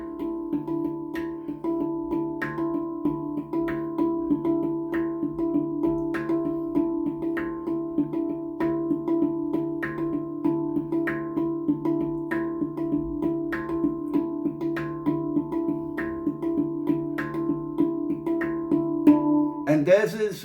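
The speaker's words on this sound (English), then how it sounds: "I want to do this sequence of 3 notes over the bar line." A handpan is played in a steady repeating pattern of three-note sequences crossing the bar line, clear ringing metallic tones struck evenly and close, with no talking.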